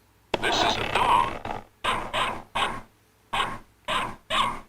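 A series of loud, close dog barks from what may be a digital modeling synthesizer, an initial long bark followed by separate bursts in uneven rhythm with brief silences between, no talking.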